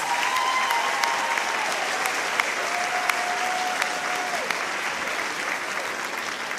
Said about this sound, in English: why don't we give them all one more round of applause